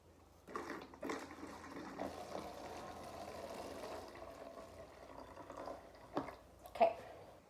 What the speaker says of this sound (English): I'm going to be very careful in pouring the vinegar in here, making sure not to spill anything